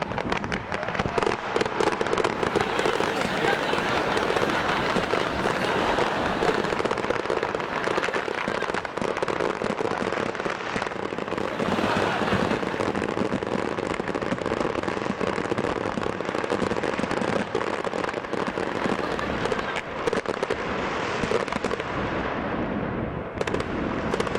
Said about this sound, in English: all the fireworks went off in under a minute